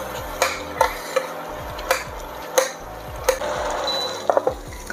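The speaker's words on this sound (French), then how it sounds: "Et là, on mélange notre farce." A tomato stuffing mixture stirred in a bowl for stuffed tomatoes, with repeated scraping clinks of a utensil against the dish at an irregular rhythm, close and clear without talk.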